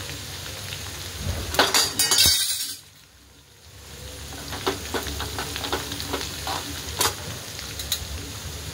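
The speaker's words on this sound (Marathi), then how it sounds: "आणि तेलामध्ये कोथिंबीर पण टाकून घेऊया" Coriander, turmeric, chillies and curry leaves fry in hot oil in a kadhai for thin poha chivda, a loud close sizzle with clinks and stirring, briefly dropping quieter before the crackle builds again.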